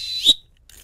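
A voice imitates a lacrosse referee's whistle with a single short, shrill, piercing tone that swells briefly and stops, close and loud.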